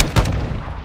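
A single sharp gunshot, a headshot in Call of Duty: Modern Warfare 2 (2022), cracks loudly and close with a brief booming tail, alone with no voices.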